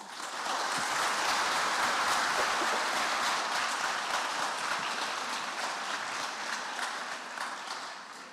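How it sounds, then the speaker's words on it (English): Audience applause at a languages and careers festival panel welcoming former students, a dense sustained clapping crowd that stays loud throughout and tapers slightly near the end, with no talk over it. "Please welcome them with a very warm round of applause."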